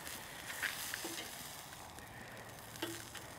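Marinated chicken wings cooking on a Vortex grill, a faint steady sizzle with a few small ticks and clinks, quiet and close with no talking.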